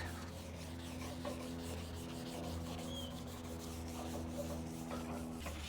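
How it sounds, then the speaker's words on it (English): A K600 Eagle Abrasives hand pad rubs steadily back and forth over a car fender, scuffing the paint dull before primer. The rasping strokes are continuous and close, with a faint low hum in the background. "we're going to use a piece of K600 from Eagle Abrasives and the hand pad"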